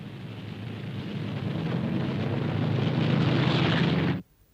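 A Convair B-36 Peacemaker bomber with six piston engines and four jet engines gives a deep, rumbling roar that builds steadily, loud and broad, then cuts off abruptly.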